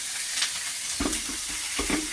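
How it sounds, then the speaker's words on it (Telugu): Steady frying sizzle of dry masala in a pan with a few scraping stirs of a spatula, fairly close and moderately loud, no voices. "ఇలా ఫ్రై చేయాలి డ్రై మసాలా పచ్చగా"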